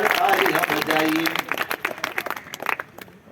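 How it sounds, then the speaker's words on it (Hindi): An audience at a Hindi poetry gathering at the Rishi Mela in Ajmer breaks into applause that starts under a speaking voice, then thins into scattered, fading claps. "खुलकर जोरदार तालियां बजाइए"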